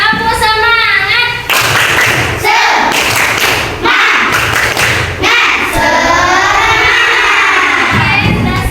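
Elementary school pupils repeat the "tepuk semangat" clapping chant, loud rhythmic group claps and thuds alternating with shouted chanting voices, close and energetic in a classroom.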